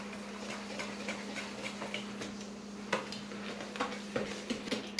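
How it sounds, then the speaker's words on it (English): A whisk scrapes raw cane sugar into lemon curd in a metal pot, making a steady clinking and scraping rhythm with sharper taps toward the end over a constant low hum. "I'm going to start whisking that."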